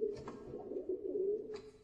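Show pigeons coo at an exhibition pigeon contest, a soft, steady throaty murmur that rolls on for about two seconds, close and moderately loud, alone without voices.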